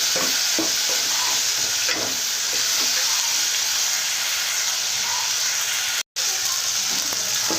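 Tomatoes with turmeric frying in a pan, giving a steady, dense sizzle with faint stirring scrapes throughout, broken only by a brief dropout near the end.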